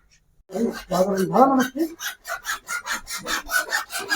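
A pipe being cut by hand for a homemade Diwali toy gun, heard as a steady run of rhythmic rasping saw strokes, close and fairly loud, quickening into an even back-and-forth pattern.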